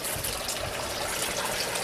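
Water dripping and trickling from tubing into aquaponic grow beds, a continuous close splashing wash with dense fine droplet texture and no pauses.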